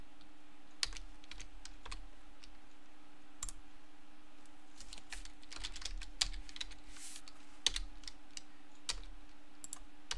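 Keys on a computer keyboard clatter in quick, uneven bursts of close, crisp clicks while a password is entered, with short pauses between the strokes and a faint steady hum behind them.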